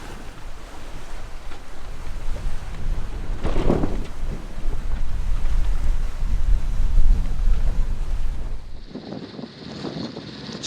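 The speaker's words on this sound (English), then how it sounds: "We're motoring into our anchorage up there." Catamaran motoring into an anchorage off St. Thomas in the U.S. Virgin Islands, a steady low engine and water rush mixed with wind buffeting the microphone, continuous throughout and shifting near the end.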